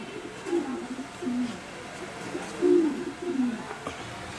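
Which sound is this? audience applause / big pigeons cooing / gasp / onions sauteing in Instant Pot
big pigeons cooing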